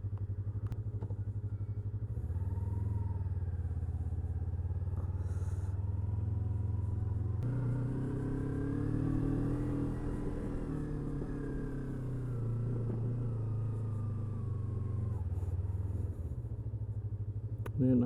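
A heavy motorcycle engine runs steadily on the ride out toward Wohkudu Beach in Gunung Kidul, Yogyakarta, with a loud continuous low rumble, pitch rising and falling through gear changes and acceleration, close and alone.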